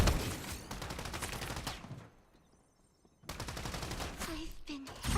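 Rapid video game gunfire bursts loud and dense, with a brief lull in the middle before the shooting resumes just as heavily, followed by a few sharper shots at the end.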